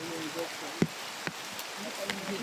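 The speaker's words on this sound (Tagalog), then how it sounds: "Sobrang lakas ng ulan mga tol" Heavy rain pours in a dense, constant hiss with scattered sharper drops and splashes, loud and close throughout, with a few faint voices underneath.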